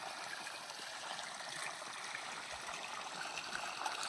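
Water poured from a small container into the basin dug around a mango tree, a steady, moderately close stream and trickle running throughout with no voices.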